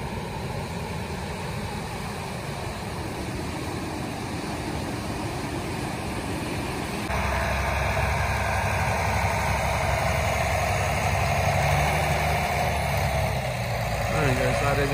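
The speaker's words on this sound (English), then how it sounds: "And that boat is like a jet ski." A powerful boat with twin 150 outboard engines, handling like a jet ski, drones steadily on the water, a continuous mid-pitched engine hum that grows louder partway through, with people talking over it.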